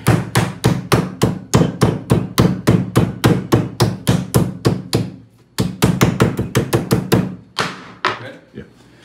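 Scraps of deer backstrap are pounded flat with a meat mallet in a steady run of loud, close thuds, about twenty blows with a short pause before a second burst.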